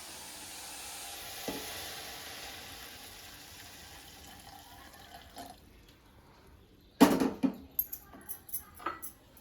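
Milk poured into a pan of cooking carrot halwa, a soft sizzle and stir running steadily, then a louder burst of splashing and several sharp clattering stirs near the end, no talk.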